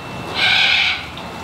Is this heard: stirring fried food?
no